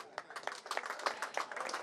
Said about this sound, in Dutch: ik wil graag een uh, ovationeel applaus voor de trainer van ACV, Hans de Jong.